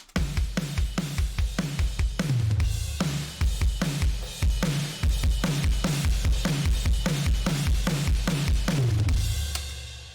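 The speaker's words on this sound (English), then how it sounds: "So if I take the clipper over the top" Loud drum beat heavily clipped by a clipper, with punchy, crushed kicks and snares in a steady groove, sounding harsh and distorted throughout.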